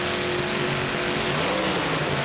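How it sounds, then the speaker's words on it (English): A supercharged drag race car engine revs at the starting line, a loud, dense, roaring drone that holds steady throughout without talk. "Yeah, that's a very good race car."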